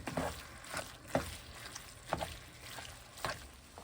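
Ground meat cooks in a pan for a wet burrito, a soft steady sizzle broken by a few periodic scraping stirs, close and fairly quiet.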